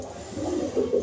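A pigeon coos in a short, low, throaty burst, close and fairly clear, with soft rising swells against a quiet room background.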